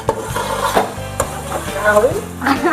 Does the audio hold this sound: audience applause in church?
no